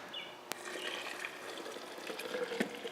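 Fruit juice poured into a fermentation vessel while a homemade ferment is being mixed: a faint, continuous trickling, splashing stream with a single sharp knock near the start.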